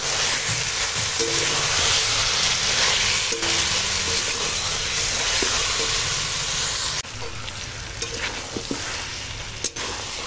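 Chicken curry meat frying with salt, turmeric and chili powders in a village-style kitchen, a steady loud sizzle and hiss with occasional stirring scrapes and clinks.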